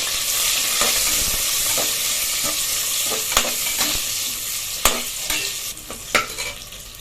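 Onion and dried red chillies fry in hot oil after cumin seeds, a loud continuous sizzle up close broken by several sharp scraping stirs of a spatula against the pan.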